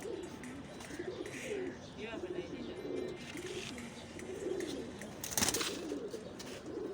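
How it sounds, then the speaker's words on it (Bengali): A female pigeon gives repeated low rolling coos in a steady rhythm, with one sharp brief noise partway through. "এটা মনে হয় এটা একটা তোতা লাইনের কবুতর এটা মাদি কবুতর"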